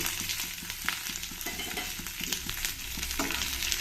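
Onion, garlic and ginger frying in a pan for a tomato gravy: a fairly quiet, steady sizzle with frequent small taps and scrapes from stirring, and no voices.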